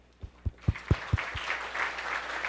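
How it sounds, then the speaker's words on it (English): At a global health and welfare forum, an audience welcomes speakers with applause: a few distinct claps build into a steady patter of many hands. "Let's give a round of applause to welcome these remarkable speakers."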